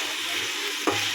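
Onion, tomato and green chili fry with salt in oil in a wok, giving a steady close hiss with a brief scrape of stirring near the end, no talking.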